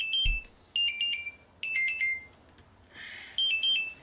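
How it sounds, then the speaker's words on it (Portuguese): A digital alarm clock or phone alarm plays a bright electronic melody in repeating bursts of short beeping notes, loud and close, with brief pauses between phrases and no talking. "Despertador."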